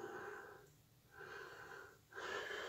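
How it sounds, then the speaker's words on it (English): Heavy, wheezy breaths sound close to the microphone in three slow, drawn-out cycles, with no talking over them. "Sorry about my heavy breathing,"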